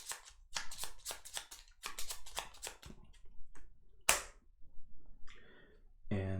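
Bloodborne board game cards are shuffled by hand in a quick run of crisp riffling bursts, followed by a few softer card taps and handling sounds close to the mic.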